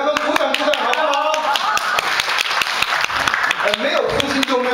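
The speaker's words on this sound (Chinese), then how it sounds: "我们姐妹给他们鼓掌鼓掌好不好" An audience claps for the fathers at a gathering, a burst of sharp, fairly close hand claps in a quick uneven rhythm that holds for several seconds, with a voice speaking over the applause.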